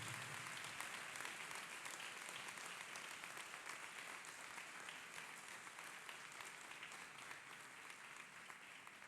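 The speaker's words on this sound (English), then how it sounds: "Clap hands for Jesus Christ." A church congregation claps hands continuously, an even, rapid patter of many hands that sounds somewhat distant and soft, with little talk.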